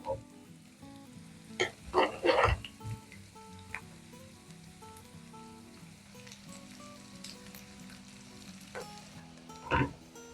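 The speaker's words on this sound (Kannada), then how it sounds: "ಹಾಗೆ ಮಧ್ಯ ಮಧ್ಯದಲ್ಲೇ ಮಟನ್ನ ಫ್ರೈ ಆಡಿಸ್ತಾ ಇರ್ಬೇಕು, ಹಾಗೆ ಹುರ್ಕೊಂತಾ ಇರ್ಬೇಕು." Mutton pieces fry in a pan while being stirred until nearly brown: a quiet, steady sizzle broken by several sharp spoon scrapes and clatters, with faint music underneath.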